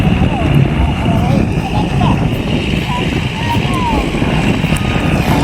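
A farm tractor's engine runs with a steady low, rough rumble close by, while people talk over it throughout.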